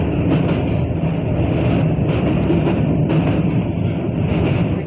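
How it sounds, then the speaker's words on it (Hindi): The Amrit Bharat Express runs after leaving Sitamarhi, a loud, continuous rumble with steady rattling and clatter of the rail cars. "सीतामढ़ी से हमारी ट्रेन जो है ना डिपार्चर होते हुए"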